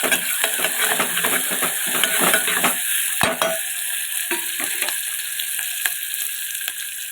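Onions frying with salt in a pan, dense crackling sizzle with frequent spatula scrapes and clicks against the metal, loud and close, easing slightly in the second half, no voices.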